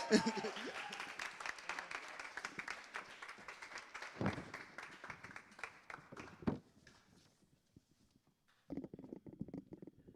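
Dense clapping from an audience at a live show carries on steadily, thins out and fades, then a short patter of applause returns at the end.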